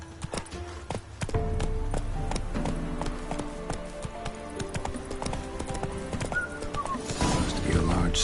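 Roach the horse gallops in Witcher 3, a rapid, steady clip-clop of hooves with a brief whinny near the end, under a spoken line and game background sounds.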